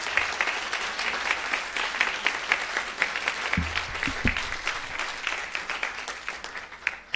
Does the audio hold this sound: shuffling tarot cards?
no